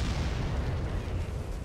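Cannon fire in the Warhammer: Mark of Chaos battle game, a loud, dense rumbling boom that holds steady through the whole moment, with heavy low-end blast energy and no speech over it.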